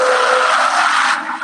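A Vitamix vacuum blender chops vegetables with a loud, harsh, steady whirring roar, close up, easing slightly in the final moment.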